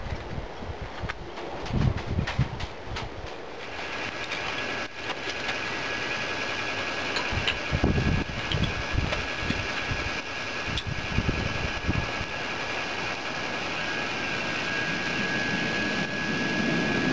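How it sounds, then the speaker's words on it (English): A homemade coke-fired furnace for melting aluminium cans roars with a steady, broad rushing blast like a blower, loud and continuous, with a few heavier thumps and crackles early on and a faint whine running through the latter part. "I'm just about to light the furnace."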